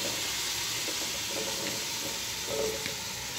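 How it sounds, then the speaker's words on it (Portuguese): Hot water runs into a pressure cooker holding chopped vegetables for a vegetable and pasta soup, a steady rushing splash lasting the whole stretch, close and moderately loud with no talking. "agora eu ponho a água, que tá quente, né?"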